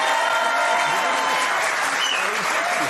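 Studio audience applauding on a French television talk show set, a dense steady wash of clapping lasting the whole moment without pause.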